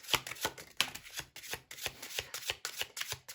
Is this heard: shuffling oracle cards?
yes